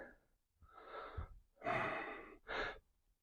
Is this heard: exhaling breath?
yes